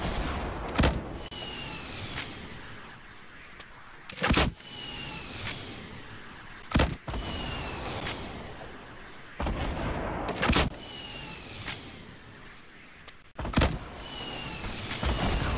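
Gunfire from a video game rings out at a fort in about six sharp, loud bursts spaced a few seconds apart, with game background noise between the shots.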